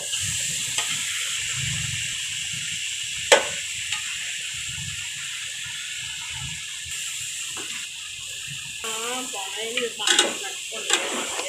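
Mutton for biryani hisses softly in a pot, a constant low sizzle with scattered knocks and scrapes of stirring, and a few brief clinks near the end.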